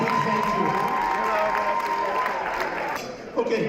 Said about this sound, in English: why don't we give her a big round of applause as a big thank you